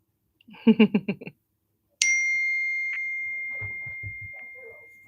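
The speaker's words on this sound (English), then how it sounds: "I'm sorry that my phone just keeps going off." A phone notification sounds with a bright ding that rings out and slowly fades, coming right after a short burst of talking, with faint low chatter continuing underneath.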